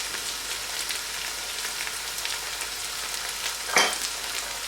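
Curry leaves, salt and ginger-garlic paste fry in a hot pan for Hyderabadi mirch gosht, a steady close crackling sizzle with one sharp louder spatter near the end.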